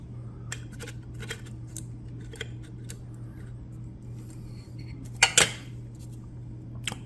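Pressed pipe tobacco plug scraped with a tool, a series of short dry rasping strokes over a steady low hum, with a louder cluster of scrapes toward the end.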